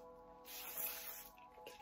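Spray bottle misting grape water onto a face, a soft hissing burst of spray that swells near the middle, heard up close in a quiet room.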